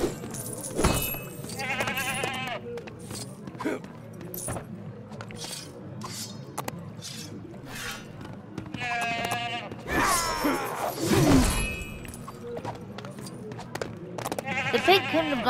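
Sheep bleating in LEGO The Hobbit, a few loud wavering bleats separated by gaps, with clattering game effects and a noisy burst in between.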